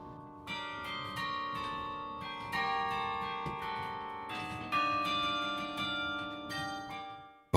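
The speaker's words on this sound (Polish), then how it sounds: "Służy do wygrywania melodii na 48 zawieszonych na tej wieży dzwonach." Carillon of 48 bells hung in a Copenhagen tower ringing out a melody, overlapping bright tolls sounding steadily and loudly for several seconds with long ringing sustain and no voices.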